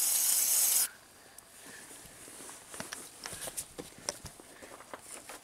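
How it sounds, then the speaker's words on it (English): A short, loud hissing burst of DeoxIT contact cleaner sprayed onto connector pins during a Ram truck wiring repair, followed by quiet, scattered clicks and handling noises close by. "I'm going to spray everything with deoxit."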